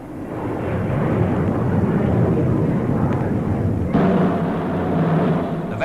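Supermarine Swift jet fighters of the 1953 RAF sweep past in a heavy, continuous roar that swells, holds loud and then eases slightly as they go by.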